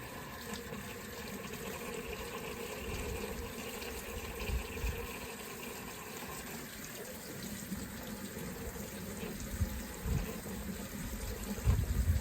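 Water gushes and trickles steadily through a rotted-out V8 engine in an HQ ute during a flush, a faint continuous splashing flow with a few louder surges near the end and no voices.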